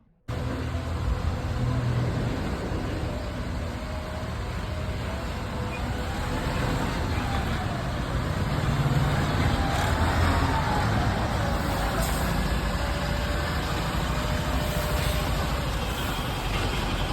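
A loaded truck carrying a cargo of mangoes to Gujarat drives along a road in India, a steady continuous engine and road rumble heard from inside the cab, with no talk.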